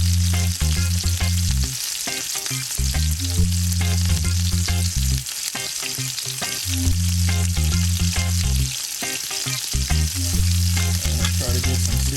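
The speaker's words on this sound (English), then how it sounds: "Try to get some searing on the corners as well." Honey glazed salmon fillet searing in a hot pan gives a loud, continuous crackling sizzle, steady throughout with no talking, while a low pulsing hum comes and goes beneath it.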